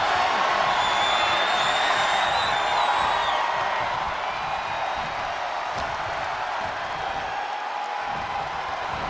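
An arena crowd in the WWE 2K25 wrestling video game roars with a steady broad cheer, faint whoops and whistles rising above it, the noise easing slightly later on.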